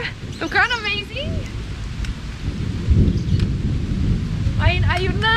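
Thunder rumbles low and steady through a rainstorm behind a house, rising around the midpoint, with rain hissing throughout while children's excited voices squeal and talk over it.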